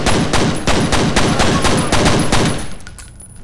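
Pistol gunfire from the FEAR video game, loud, rapid shots fired in a steady rhythm for about three seconds before cutting off, with a few fainter trailing sounds at the end.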